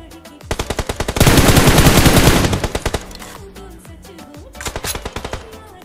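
Automatic gunfire in the BGMI mobile battle royale game: rapid loud bursts of shots, a long sustained stream in the middle, then sparser volleys, close and dominant.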